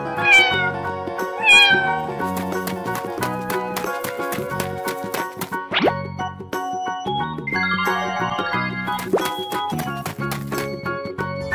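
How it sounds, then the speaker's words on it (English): A cartoon cat meows a couple of times in an animal-crossing painting game, the short meows sitting over busy, bright game music and sound effects. "Cat."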